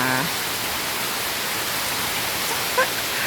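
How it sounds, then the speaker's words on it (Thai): Heavy tropical rain pours down in a continuous broadband hiss, steady and close, with a brief faint tonal chirp near the end and no talking. "มีแต่เสียงฝนนะคะ"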